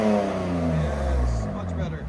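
A 2023 BMW M3 Competition with its exhaust valves open revs loudly up close, a deep droning engine note rising and falling over about two seconds, with voices talking over it.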